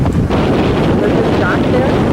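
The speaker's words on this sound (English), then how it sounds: "Big and windy." Strong wind blowing over a boat on a scenic trip near the Seven Mile Bridge, a loud, steady roar and rumble of wind buffeting the microphone, close and continuous, with faint voices underneath.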